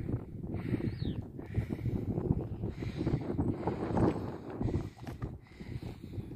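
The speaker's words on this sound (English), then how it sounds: "Hope the wind ain't too loud." Wind gusts across an Appalachian Trail mountaintop at sunrise, a loud, continuous rumbling buffet that swells and eases throughout.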